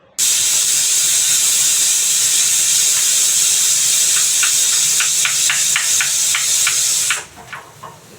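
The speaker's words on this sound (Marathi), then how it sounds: "कुकरला शिट्या होत आहेत" A pressure cooker whistles steadily in a home kitchen, a loud continuous high hiss of escaping steam lasting about seven seconds before it cuts off abruptly, leaving quieter background noise.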